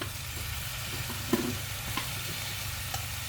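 Grilled catfish chili paste stir-frying in a pan with fish sauce and tamarind, giving a steady, moderate sizzle broken by a few soft scrapes of the spatula, with no one talking.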